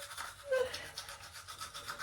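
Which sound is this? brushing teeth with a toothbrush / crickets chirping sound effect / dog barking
brushing teeth with a toothbrush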